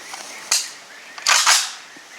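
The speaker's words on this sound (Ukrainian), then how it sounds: "Нова версія глушника компанії From версія вересня 23-го року в зменшеному габаріті е, випробування на звук." A 5.45 AK Kalashnikov rifle fired through a compact Fromsteel suppressor, two close, sharp muffled cracks about a second apart, each with a short rough tail.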